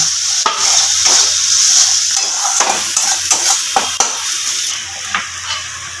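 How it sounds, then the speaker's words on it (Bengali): Spice masala for a Bengali shol fish curry being stir-fried in a pan, with steady close sizzling and repeated scraping strokes of a spatula throughout, with no talk. "এবার মশলাটাকে খুব ভালোভাবে কষিয়ে নেব"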